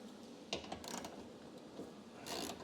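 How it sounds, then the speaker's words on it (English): The power window regulator of a Corvette C5 lowers the glass with faint, close mechanical ratcheting and gear whirring, marked by a few soft clunks, and no one speaks. "we're going to lower the window a little bit for the other bolt"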